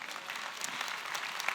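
A keynote audience at a tech conference claps steadily, a dense even wash of applause from a large crowd heard at moderate distance, with no talking over it.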